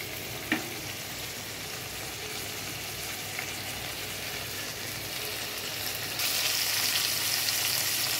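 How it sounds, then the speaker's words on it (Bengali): Onions frying over medium heat for a beef kofta curry: a steady, even sizzle holds throughout, with a single sharp click early on and the hiss growing slightly brighter near the end. "পেঁয়াজটা হালকা ভেজে নিচ্ছি"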